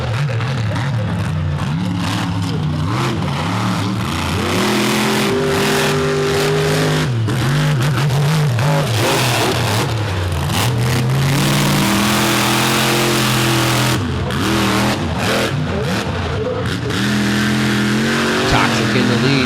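Monster trucks Toxic and Buckshot roar off the start of a semi-final race at a Charlotte, NC monster truck bash, engines revving loudly with rising and falling pitch sweeps as an announcer talks over them.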